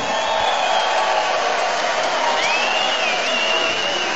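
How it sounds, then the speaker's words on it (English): Dense, loud crowd applause and cheering fills a boxing arena after a heavyweight bout, a continuous roar of clapping sustained without a break. "can we please have a round of applause for these two heavyweight warriors?"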